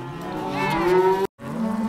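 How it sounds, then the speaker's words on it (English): Cattle moo loudly and close during a genuine working cattle drive on the DryHead Ranch in Montana, one long drawn-out bellow with a brief gap before another call begins. "Genuine cow drives."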